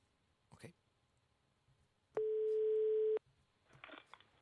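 A single steady electronic ringing tone of an international call to Finland sounds for about a second, between faint clicks and brief muffled voices on a phone line.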